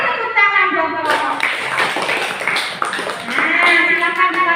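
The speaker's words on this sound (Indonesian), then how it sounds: "Kasih tepuk tangan buat kelompok." Classroom audience clapping for a student group that has just presented, a brief burst of hand claps mixed with chatter and voices over about four seconds.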